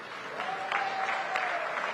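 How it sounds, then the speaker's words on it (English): Sustained audience applause in the hall of a SADC heads-of-state summit, with steady crowd clapping throughout and a faint voice carrying underneath. "Another round of applause,"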